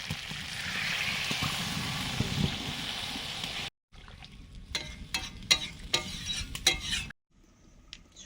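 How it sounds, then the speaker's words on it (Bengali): Water poured into a hot pan while cooking shrimp with cucumber sizzles loudly and steadily for a few seconds, then cuts to quieter stirring with scattered crackles and clinks nearby. "এবারে জল দিয়ে দিচ্ছি।"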